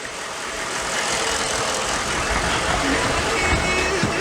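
A diesel shop truck engine runs steadily at a low idle with a rough, constant rumble, up close. The engine may be running on bad diesel fuel.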